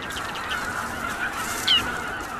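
Geese honk and other birds call across snowy Arctic islands where patches of bare earth poke through, a steady far-off chorus of overlapping calls with one brief louder honk near the end.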